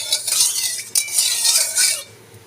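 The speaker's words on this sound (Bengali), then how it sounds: "এবার আমি তেলটা ভালো করে কড়াইয়ের গায়ে লাগিয়ে নিচ্ছি।" Hot oil is swirled around the sides of a kadai with a metal utensil, giving bright scraping and clinking strokes over a faint sizzle, close and fairly loud in bursts.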